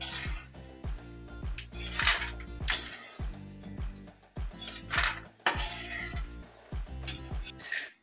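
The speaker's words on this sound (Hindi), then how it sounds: "ये देखिए हमारी पीनट फ्राई हो चुकी है, अब मैं इसको निकाल लूंगी।" Fried peanuts are lifted out of a pan with a metal spoon, giving a rhythmic run of close, bright clinks and scrapes, each stroke sharp and quickly fading, with the last ones sounding fuller and louder.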